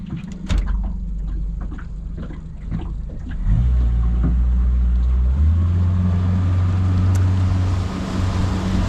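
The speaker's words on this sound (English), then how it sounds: "put the engine in the water, turns it on" A small outboard boat motor drones loudly and steadily nearby on a dam, its pitch and volume rising as it revs up partway through.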